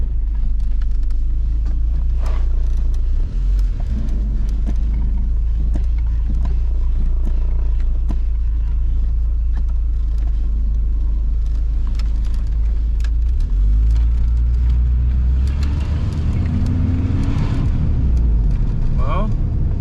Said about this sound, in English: we're driving down the road